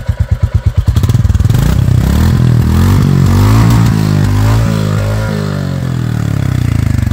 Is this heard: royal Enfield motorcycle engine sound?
yes